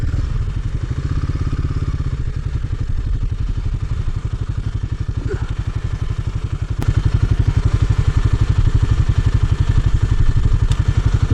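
A Royal Enfield Himalayan 450 motorcycle engine runs up close, a steady rapid low thumping that grows louder and fuller partway through, with a sharp click near the middle.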